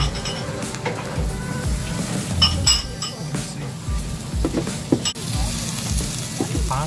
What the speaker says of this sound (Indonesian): Panggang sapinya.